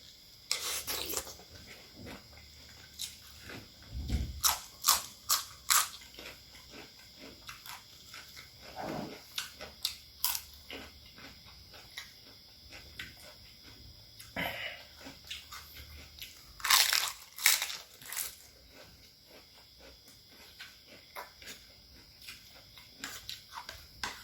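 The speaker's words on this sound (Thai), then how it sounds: "คลิปนี้มีแค่หมูนะกรอบทั้งคลิปปวดกรามแน่" Crunchy chewing of a Thai spicy pork sausage salad with fresh garden vegetables, close and intimate, with repeated bites and crisp crunches in irregular bursts across a quiet background.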